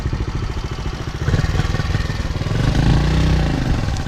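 A motorcycle engine idling and running steadily at close range while the bike is moved down off a narrow main road, with a rhythmic low throb that swells slightly in the latter half.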